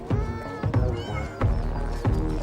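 Domestic cats on Aoshima Island meow loudly and close by, about four drawn-out calls overlapping in quick succession.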